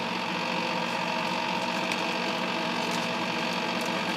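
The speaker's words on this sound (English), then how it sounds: "then I just put the mixer back on" An electric mixer running steadily while mixing pink and white chocolate chip cookie dough: a constant, loud motor hum and whir with even tone throughout, close up and without pauses.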